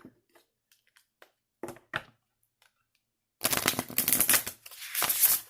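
Tarot and oracle cards are shuffled by hand in a loud, dense burst of riffling and slapping, preceded by scattered faint taps and handling noises.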